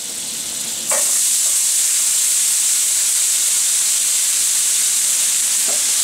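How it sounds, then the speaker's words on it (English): Onions dropped into hot butter in a pan burst into a loud, steady sizzle that holds evenly, with a faint clink or two of a utensil and no talking. "Into there, we're going to throw our onions."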